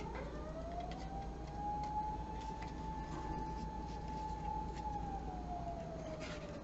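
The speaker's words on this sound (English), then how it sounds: "there's sirens outside" A single siren wails from a distance, rising then holding a steady tone before sliding down, faint over a low background rumble.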